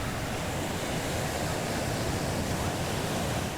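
Continuous ocean surf and breaking waves roll steadily at a summer beach in Newport Beach, a dense, loud wash of noise without pause.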